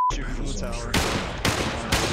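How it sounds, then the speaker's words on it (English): Sharp bursts of gunfire in the video game Population One crack out three times at regular intervals, loud and close, following a brief tone and muffled talk. "I hear gunshots."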